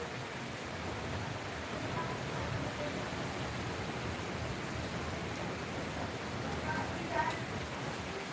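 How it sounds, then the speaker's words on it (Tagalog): Strong typhoon winds roar with driving rain, a steady broadband rush that holds at an even loudness throughout, with a slight gust swell near the end. "Yung huni ng hangin."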